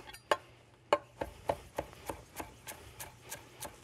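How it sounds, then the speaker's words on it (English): Knife coarse-chopping fresh cilantro on a cutting board, about a dozen crisp taps in a steady rhythm that gradually soften, close and quiet with no talk. "Beautiful, chop that up a little bit."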